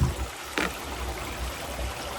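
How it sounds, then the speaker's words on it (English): Water pours into a filling canal lock in a steady, low rushing flow heard close and alone, with a brief louder splash early on. "The lock's filling up nicely."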